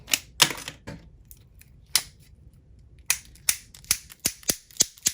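Sharp, crisp snips and clicks of scissors cutting through the thin plastic film of microSD card packaging, coming in irregular bursts up close with quiet gaps between.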